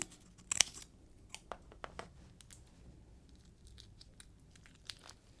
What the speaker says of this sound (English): Peel back the shell, making sure that you leave on the tail for decoration